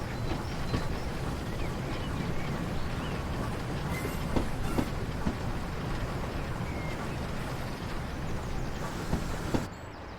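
A train arrives at Groombridge on the Spa Valley Railway in the video game Train Simulator, with a steady loud rumble of rolling wheels and rhythmic clickety-clack across rail joints running the whole time, and faint squeals near the end.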